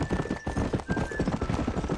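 A horse in the Red Dead Redemption video game gallops with quick rhythmic hoofbeats while a high neigh rings out over the running, close and fairly loud.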